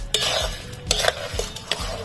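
Jaggery and sugar being stirred into apple chutney in a pot, with several distinct scraping strokes of a spoon against the pan at an irregular rhythm, close and fairly loud, no talking.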